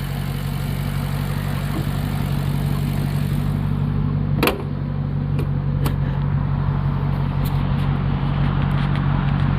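A 2010 Maserati GranTurismo convertible with its 4.7-litre Ferrari-based V8 runs at a steady idle, a constant low engine drone with no distinct rev rise, while a few faint clicks and taps sound over it.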